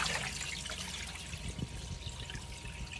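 Basmati rice being rinsed in warm water, with a steady close wash of running and trickling water and small splashes throughout, no voices.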